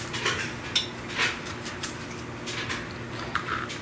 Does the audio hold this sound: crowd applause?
no